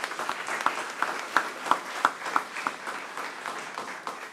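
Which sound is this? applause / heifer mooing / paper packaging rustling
applause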